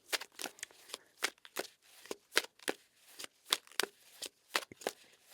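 Tarot cards shuffled close up, with a quick series of crisp riffling slaps and snaps in an uneven rhythm, fairly soft overall, and no voice over them.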